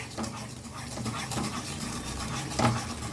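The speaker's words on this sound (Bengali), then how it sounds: "আখের গুড়টাকে এখন আমি খুব ভালো করে একটু জাল দিয়ে নেব যাতে এটার মধ্যে একটা খুব সুন্দর পাক চলে আসে" Sugarcane jaggery heated and stirred in a pan for sesame naru, soft scraping and bubbling strokes at close range, steady and quiet, with one sharper clink of the spoon near the end.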